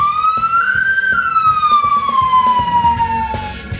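In a commercial, a wailing ambulance siren rises and falls once over a rhythmic thumping backing, loud and close.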